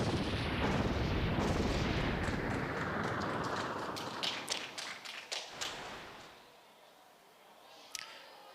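In Kirby and the Forgotten Land, a fire attack spammed at a boss makes a dense roaring rush of flame that tapers into a series of sharp thuds and taps, then a final hit.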